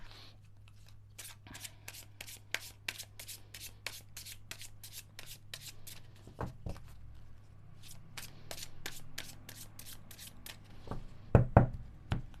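A Cigano fortune-telling card deck being shuffled by hand, a long run of crisp riffling flicks in quick steady bursts, close and clear, ending in a few sharper taps as the cards are knocked together.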